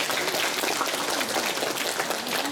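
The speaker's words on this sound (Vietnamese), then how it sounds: "Xin một tràng pháo tay thật lớn để chúc mừng" Applause at a school opening ceremony, a dense steady patter of many hands clapping throughout, loud and continuous with no voices over it.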